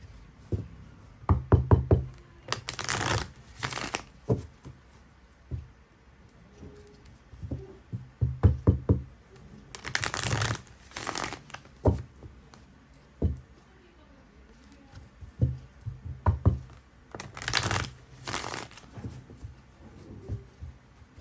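Tarot cards being shuffled and tapped in bursts of quick riffling and soft knocks, repeated several times at close range with quiet pauses between, no talking.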